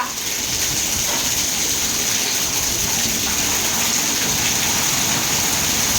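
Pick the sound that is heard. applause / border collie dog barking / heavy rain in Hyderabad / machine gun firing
heavy rain in Hyderabad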